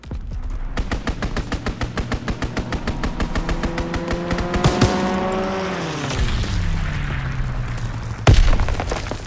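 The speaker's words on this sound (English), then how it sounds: "Strafing run inbound!" A strafing-run air attack in Call of Duty WW2 sounds as a rapid, steady stream of gunfire with an aircraft engine note that rises, then dives and sweeps down in pitch, ending in a heavy impact boom.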